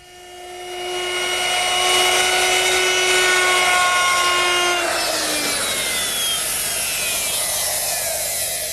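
A router with a rounding bit shaping the corners of a wooden harvest tabletop whines steadily and loudly for several seconds, then the pitch drops as the cut ends and the motor spins on alone.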